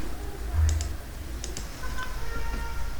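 Fingers type on a computer keyboard in a short run of light, irregular clicks, fairly close and clear, set over a low steady hum.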